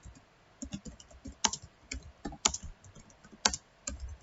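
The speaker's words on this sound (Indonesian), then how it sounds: "Berarti harus kita ketik." Close, quiet typing on a computer keyboard while entering transactions in accounting software, irregular clusters of light key clicks with short pauses.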